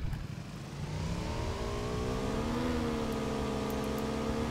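A motorcycle in PUBG revs up from a low idle into a rising, buzzing engine whine that holds steady near and loud, with no talk over it.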